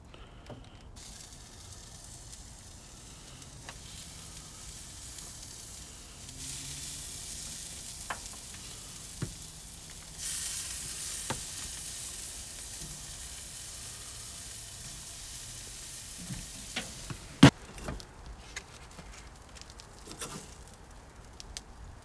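Onions frying in a pan alongside a 36-day dry-aged ribeye, giving a steady low sizzle and patter throughout with a few sharp clicks and taps, fairly faint and without talk.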